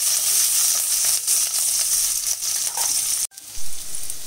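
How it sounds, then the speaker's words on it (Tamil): Capsicum and garlic roast in a pan for pink sauce pasta, giving a dense, steady sizzle that drops out briefly once before resuming. "கேப்சிகம் லைட்டாக ரோஸ்ட் ஆகிடுச்சுங்க"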